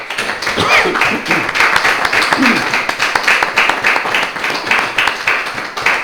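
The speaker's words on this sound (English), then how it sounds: "I want you to give the brother ministers a round of applause." An audience at a religious gathering applauds ministers, a dense, steady patter of clapping that carries on throughout, with a voice briefly audible over it.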